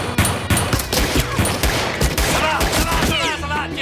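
Rapid bursts of gunfire crack close by in a French-dubbed TV drama scene, a dense, uneven volley of sharp shots with a voice briefly heard near the end.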